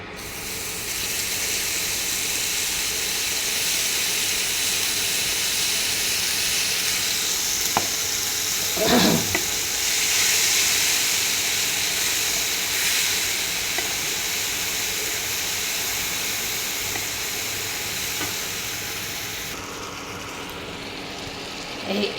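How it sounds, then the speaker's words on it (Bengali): Spice paste dropped into hot oil for methi matar, a continuous loud sizzle and hiss with a short crackling burst midway, fading slightly toward the end. "তেল গরম হয়ে গেছে। এবার আমি এতে মশলাটা যেটা পেস্ট করেছি, দেখুন, এই মশলাটা আমি দিয়ে দেবো।"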